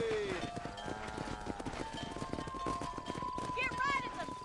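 Horse galloping in Red Dead Redemption, a steady rapid drum of hooves under game music and shouting voices, with a whinny-like call near the end.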